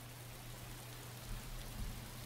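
Light rain beginning to fall outdoors at night, a soft, steady hiss of patter that stays faint and even, with a slight swell toward the end and no voices.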